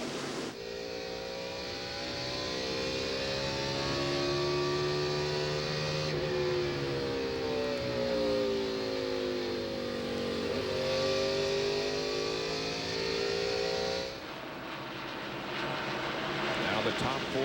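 NASCAR Winston Cup stock cars race at the Richmond night race, their engines roaring and rising in pitch as packs pass, with a loud sustained drone and commentators talking throughout.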